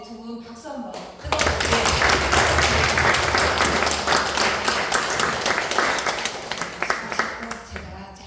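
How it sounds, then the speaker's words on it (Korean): Audience at a church outreach concert of traditional Korean music gives two performers loud, sustained applause with dense clapping that starts abruptly after a brief voice and holds steady before tapering. "우리 다시 한번 우리 두 분 박수 한번 뜨거워주세요."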